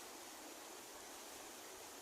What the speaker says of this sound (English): and this is river Ganga in front of us, and it's raining